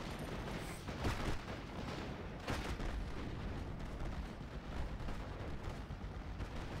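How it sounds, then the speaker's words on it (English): Mortar fire in the WWII Normandy strategy game Steel Division: Normandy 44, a steady rumble of distant booms and blasts, with a few heavier thuds standing out, continuous and fairly faint. "Dropping some mortars on them now, trying to keep them from killing everybody here."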